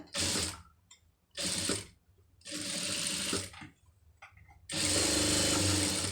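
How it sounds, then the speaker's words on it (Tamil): Sewing machine stitching a puff sleeve with a silk border, running in four distinct bursts of rapid mechanical whirring with short quiet pauses between, close and fairly loud. "அந்த மடிப்பு கலையாமல் தையல் போட்டுருங்க"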